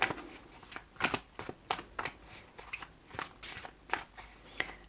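Tarot cards being shuffled by hand, a quick run of papery riffles and slaps in uneven bursts, close up, with no one talking.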